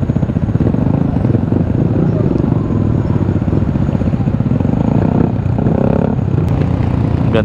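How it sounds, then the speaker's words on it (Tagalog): A dragster motorcycle engine drones steadily, mixed with other motorbikes in a group ride on a road, with a continuous loud rumble and wind noise throughout. "Dragster ba yan o e-bike? Hindi, may tunog eh. Dragster nga yata."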